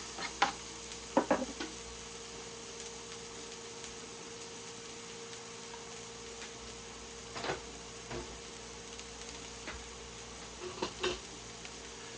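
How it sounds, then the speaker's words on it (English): Onions frying quietly in a warm Hexclad hybrid non-stick pan, a soft steady sizzle with occasional light clicks and stirring taps. "Alright, our pan is warm. Onions in the pan."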